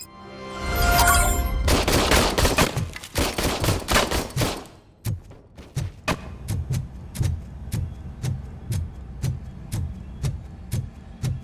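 Gunfire in the Robocop: Rogue City video game: dense rapid bursts for several seconds, then single sharp shots spaced evenly about half a second apart.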